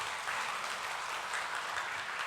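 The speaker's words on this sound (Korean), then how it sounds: "박수 한번 할까요?" A church audience gives a round of applause, a continuous, fairly soft and even spread of many hands clapping together without pause.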